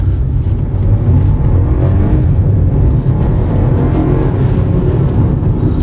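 A car engine accelerates in Sport mode, heard as a loud, steady, deep rumble from inside the cabin with a smooth, continuous drone and no sharp revving peaks.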